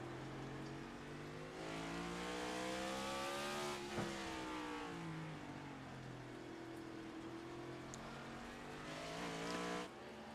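An ICON Cup Series race car in iRacing laps Sonoma from an onboard nose camera, its engine droning loudly and steadily, pitch sweeping up through gears with a sharp downshift blip midway and tire noise throughout.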